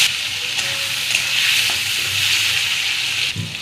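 Cut potatoes frying in oil with bay leaf, dried chilli and five-spice seeds, a loud continuous hissing sizzle, close up, with faint stirring knocks and a slight dip near the end.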